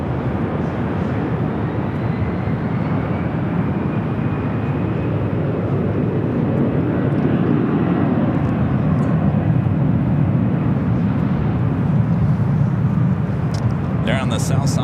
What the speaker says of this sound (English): There on the south side, the China Airlines carbon fiber Airbus A350 taking off 25 right.